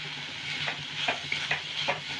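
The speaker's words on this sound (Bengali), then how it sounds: "একটু হালকা খালি নেড়ে নেবো চিনিটা গলা পর্যন্ত" Sugar being stirred in a pan over low gas heat until it melts for chandrakala sweets, a soft steady scraping and gentle sizzle with a few brief clinks, close and quiet, no talking.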